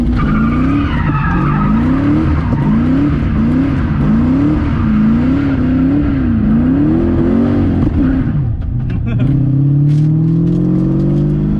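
An LS-swapped Lexus IS300 with a welded differential drives and skids, its V8 engine note rising and falling in repeated surges under loud tire noise before settling into a rising rev as the car accelerates.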